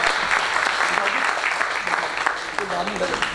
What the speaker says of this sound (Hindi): आप सभी ताली बजा करके हंसावत जी और उनके परिवार का स्वागत करें।